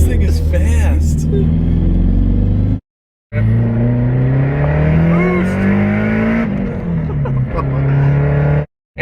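A turbocharged K-swapped car accelerating hard at full throttle, a loud close engine note climbing in pitch through gears with brief cuts between shifts, while people inside talk and exclaim over it.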